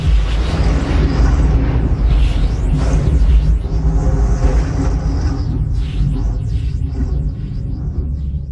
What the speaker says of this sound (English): All those churning clouds have sparked an electrical storm.